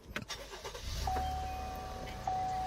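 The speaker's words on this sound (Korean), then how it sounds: "이제 시동부터 한번 걸어볼 건데요" A V6 imported luxury SUV starts up with a short cranking burst, then settles into a smooth, even idle, recorded close by with no talk.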